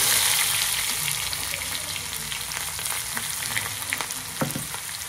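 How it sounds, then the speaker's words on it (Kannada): Crushed garlic tempering sizzles steadily in hot oil close up, with a few scrapes and taps of stirring scattered through the continuous frying hiss. "ಇದನ್ನ ಬೆಳ್ಳುಳ್ಳಿ ಕುಟ್ಟಿ ಒಗ್ಗರಣೆ ಹಾಕ್ಬೇಕು ಅಷ್ಟೇ."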